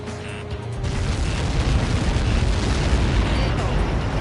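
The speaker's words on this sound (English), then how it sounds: "How many got caught in that explosion?" Missile impact explosion in a flight combat video game, a sudden loud boom that swells into a sustained rumbling roar lasting several seconds.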